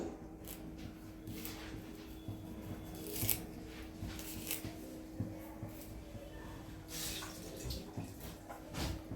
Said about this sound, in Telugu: కరివేపాకు కూడా సన్ చక్కగా కడుక్కొని వేసుకోండి